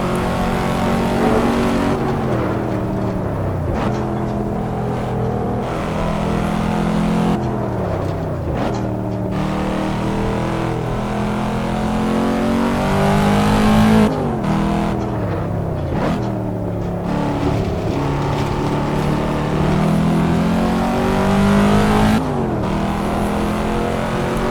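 A 2012 C6 Corvette V8 in Assetto Corsa on a Nürburgring hot lap roars loud and close, climbing through the revs, shifting and dropping off for corners with no talk over it.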